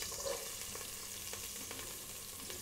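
Green onions hit hot oil in a pan, giving a steady low sizzle and crackle with faint scattered pops throughout, fairly quiet and without voices.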